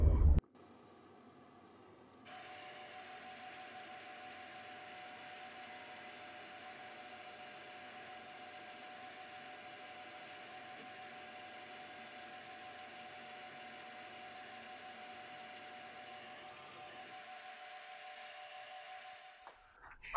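A metal lathe parts off crank discs for a small model engine with a grooving tool, giving a steady, faint mechanical hum with a high whine that runs for about fifteen seconds and then drops lower as the cut ends.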